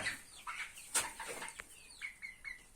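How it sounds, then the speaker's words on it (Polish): A hen clucks softly in a poultry coop at evening lock-up, giving a few faint, short, chirpy calls with scattered rustling and wing movement, the calls growing more regular toward the end. "O, to jest kurka."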